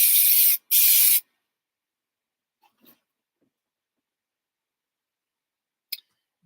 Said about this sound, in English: So let's just spray these up.